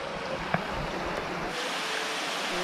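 Water pours steadily at Kipot Falls, a section of a waterfall along a trail, making a constant, moderately quiet rushing hiss with one small splash-like tick early on and no talking.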